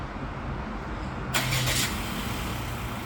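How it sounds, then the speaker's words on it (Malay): A Perodua Axia SE on a Nanexx sodium-ion battery starts with a short cranking whir that catches into a low, steady idle, heard nearby with no talking. "Okey, sekarang kita dah pasang, kita akan tengok dia punya start"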